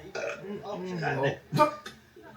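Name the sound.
burp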